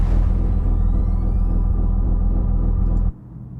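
A video game spaceship engine loop for forward movement, built in Wwise: a dense, steady, rumbling drone with faint rising whines, loud and continuous before abruptly dropping to a quieter low hum.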